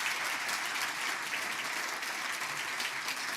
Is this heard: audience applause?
yes